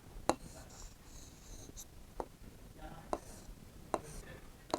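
A pen writes the Urdu word gajra by hand. Soft scratching strokes are broken by several sharp taps and lifts spaced a second or so apart, close and quiet, with faint breathing underneath.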